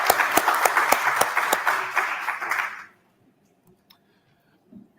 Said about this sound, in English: So huge round of applause for them.